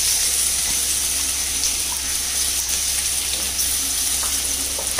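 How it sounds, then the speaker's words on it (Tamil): Green chilies, garlic and ginger sizzle steadily in hot oil in a home kitchen pan, a close, continuous frying hiss with small crackles and no talking. "இது பச்சை வாசனை போக கொஞ்சம் வதக்கிக்கலாம்."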